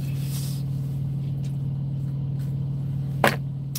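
A Prime Inc truck's auxiliary power unit runs with a steady low hum. The drone stays constant throughout, with a few faint clicks and one short sharp knock near the end.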